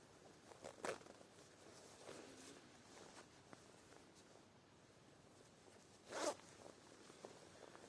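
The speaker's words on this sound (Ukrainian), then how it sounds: "Одним рухом можемо розстебнутися, одним рухом можемо застебнутися." A Mil-tec membrane jacket's zipper is pulled open and shut in two quick rasping strokes several seconds apart, close up, with faint fabric rustle in between and no talking.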